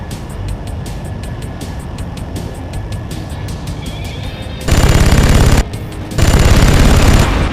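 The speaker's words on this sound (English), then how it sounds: "Try using your guns on this old AA gun." Jet aircraft cannon firing in the 2010 PS3 Top Gun video game, a loud continuous roar of engine noise broken by two long rapid bursts of gunfire, close and dominant.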